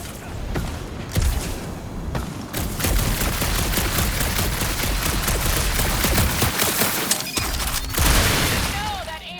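Dense, chaotic gunfire from Marvel's Guardians of the Galaxy, played on PC, fills the scene with rapid overlapping shots and sharp bangs that barely let up for the full stretch.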